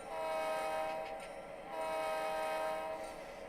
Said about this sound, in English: we're going to go ahead and blow our whistle signal here